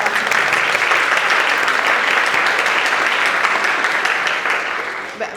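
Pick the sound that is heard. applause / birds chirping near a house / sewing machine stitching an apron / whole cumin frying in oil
applause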